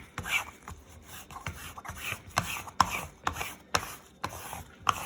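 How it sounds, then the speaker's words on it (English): Squeegee pressed over fabric to smooth it down onto a wooden board, with repeated short scraping rubs in an uneven rhythm, close and fairly quiet, with no talking. "And then I'm gonna squeegee it down."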